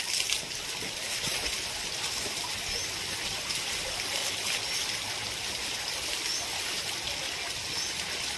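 Water pours steadily from a garden hose, a continuous close hiss and trickle that stays even throughout with no voices.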